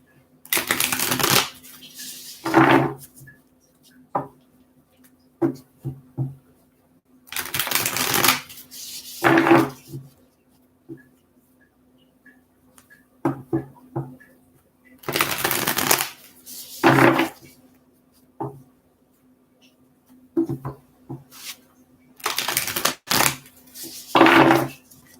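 Tarot cards riffled and shuffled by hand in repeated crisp bursts, each a second or two long with quiet pauses and soft taps between, close and clear with a faint steady hum beneath.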